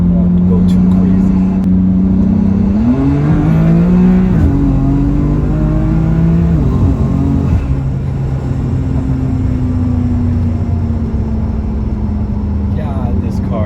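A tuned BMW F80 M3 with stage 2 turbos heard from inside the cabin, the engine drone climbing in pitch as it accelerates, then easing and rising again, loud and close.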